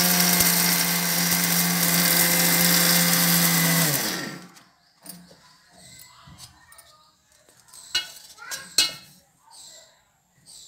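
An electric grinder whirs loudly and steadily while pulverizing coriander and garam masala spices, then cuts off abruptly, leaving faint clicks and rattles of the jar being handled.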